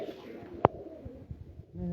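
Domestic desi pigeons at a pigeon club in Mianwali, with a brief cooing call standing out once amid low-level room noise and scattered handling sounds.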